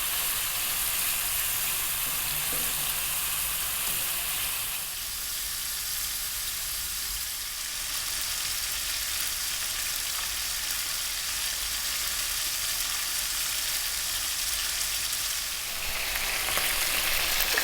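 Chicken pieces for shawarma fry over high heat in a stovetop pan, charring as they cook, giving a loud, steady, continuous sizzle and hiss with no break and no voices.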